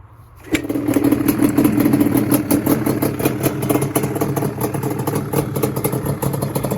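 A 1997 Yamaha Banshee 350 ATV engine cranks and catches after a brief quiet moment, then settles into a loud, steady, raspy two-stroke idle that runs to the end.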